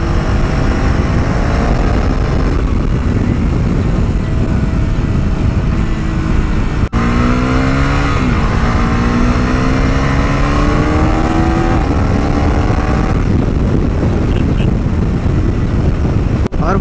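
A KTM Duke 390 motorcycle engine revs loudly and steadily, its pitch climbing and shifting through gears with a quickshifter, with constant wind buffeting over the whole stretch.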